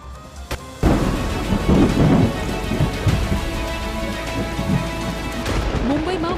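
Torrential monsoon rain pounds down in Mumbai, a heavy, close and constant roar of rain on surfaces, with deep rumbling thunder rolling through it.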